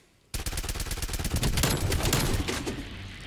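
Automatic weapon fire in Call of Duty Black Ops Cold War erupts suddenly after a brief quiet, a fast, evenly spaced stream of loud close shots that continues to the end with no talking.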